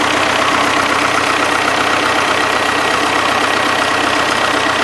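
A DT-75 crawler tractor's diesel engine idles with a knock in the motor, a loud, continuous rough rumble heard up close and unchanging, with no voices.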